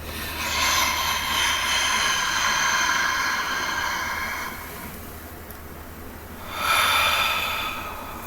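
Slow, deep, deliberate breaths, each a long airy hiss: a sustained inhale or exhale for several seconds, a quieter gap, then another breath starting, close and fairly loud.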